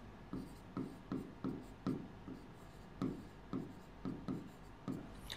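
A pen scratching out a date by hand on paper, about a dozen short, soft strokes in quick uneven rhythm, close and quiet.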